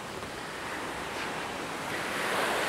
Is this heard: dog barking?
no